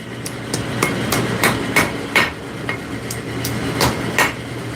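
A hammer strikes hot steel laid across an anvil edge to hot cut it during forging, a series of about a dozen sharp, ringing metallic blows at an uneven steady pace, loud and close.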